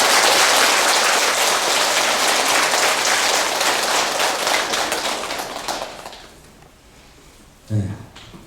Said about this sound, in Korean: 불자의 여러분들께서는 모두 큰 박수로 스님을 환영해 주시기 바랍니다